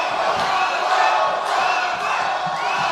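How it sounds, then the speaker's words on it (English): A boxing arena crowd yells and cheers in a loud, continuous roar, with rhythmic chanting swells rising and falling throughout. "And he's got the crowd behind him. And you hear the crowd yell, Viedas, Viedas."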